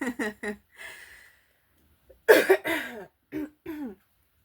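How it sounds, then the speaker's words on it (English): Several short, scattered coughs and throat-clearing sounds close to the mic, with a breathy exhale and brief silences between them. "my throat is like, I'm coughing a lot"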